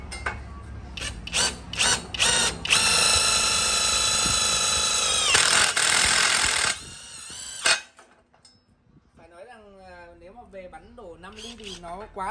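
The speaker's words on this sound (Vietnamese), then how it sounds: "mình sẽ bắn thân chân của đế tông thì mình sẽ bắn sắt V dày khoảng 5 ly này" Power tool, a bin-fed impact driver, driving bolts into 5 mm thick steel V angle: a loud sustained rattling hammering burst lasting several seconds, then it stops and someone talks close by.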